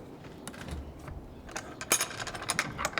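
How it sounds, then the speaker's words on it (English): A jam latch on a barn door clicks and clanks as it is fastened, giving a series of sharp metallic taps and rattles that grow busier toward the end, close and moderately loud. "We use what's called a jam latch."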